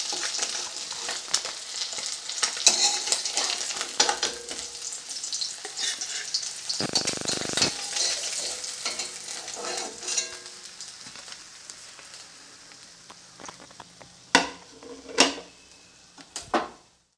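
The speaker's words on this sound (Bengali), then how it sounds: "মাছটা আমি লো আঁচেই ভাজছি" Bata fish frying in oil on low heat, a soft continuous sizzle close by, with intermittent clinks and a few sharp knocks of a utensil toward the end.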